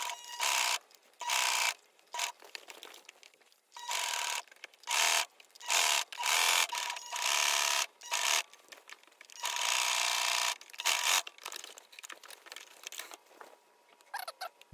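A sewing machine stitching a seam on silk shorts made from old clothes, running in repeated bursts of fast, whirring mechanical chatter separated by short pauses, close and clear with no talking.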